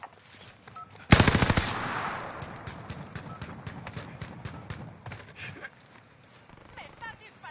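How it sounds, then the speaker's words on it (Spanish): Gunfire in Call of Duty Warzone: a sudden loud burst of rapid automatic fire, its rattling shots trailing off into scattered pops and distant reports, with a voice speaking over the fighting. "Me están disparando."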